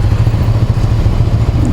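A 2023 Ducati Scrambler Icon rolls along at walking pace, its engine giving a steady, close, low-revving burble with no voices over it.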